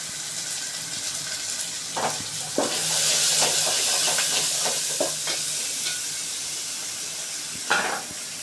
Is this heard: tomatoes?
yes